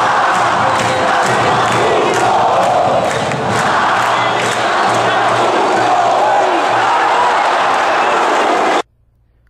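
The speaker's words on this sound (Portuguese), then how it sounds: "escuta aí a torcida" CRB football supporters chant together inside a stadium, a loud, dense crowd roar with rhythmic pulsing claps and voices that continue without pause before cutting off abruptly at the end.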